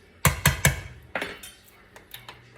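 A pot filled with water and potatoes set down on a stove: three quick metallic clanks close together, then softer knocks and rattles trailing off, heard alone without talk.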